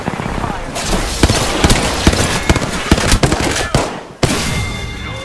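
Rapid bursts of automatic gunfire in the battle-royale shooter Apex Legends, sharp cracks in uneven volleys with a short pause near the end, loud and close, with a character voice briefly over the shots.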